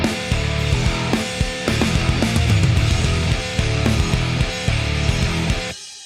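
Electric guitar run through the MIKKO plugin, captured with a 421 mic on a green speaker cabinet, playing a dense, loud distorted riff with punchy palm-muted hits, alone and then abruptly stopping near the end.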